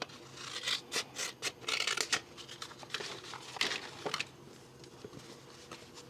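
Scissors cutting through folded material, close up, in a series of short rasping snips and scrapes with uneven pauses between them, fading to quieter rustling.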